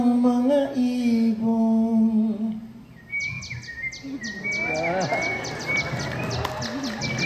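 A stage performer at a live concert imitates bird calls with the voice, first sustained whistled tones, then a rapid series of short chirps over audience noise and laughter.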